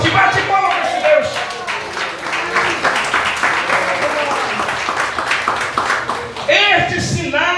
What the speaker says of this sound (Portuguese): Bate palmas para Deus.